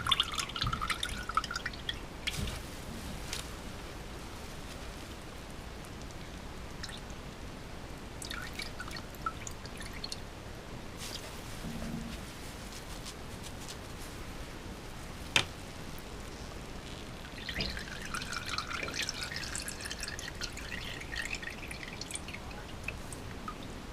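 Water dripping and trickling from a squeezed handful of joker fishing bait, faint, close patters and splashes that swell in short bursts over a quiet background, with no talk.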